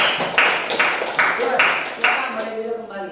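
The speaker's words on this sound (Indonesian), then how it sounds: "tepuk tangan untuk Wahel dan Ojak" Classroom applause for two physics students after a static electricity demonstration, a burst of hand clapping in repeated bursts, fading toward the end, with no talk over it.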